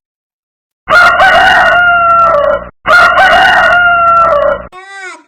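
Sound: rooster crowing

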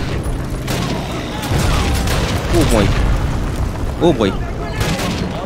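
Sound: machine gun fire in the Call of Duty video game

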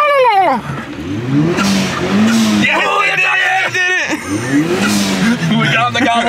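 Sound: Nissan Silvia car skidding under braking

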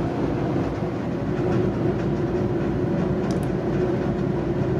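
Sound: Metrolink Arrow European-style passenger train passing

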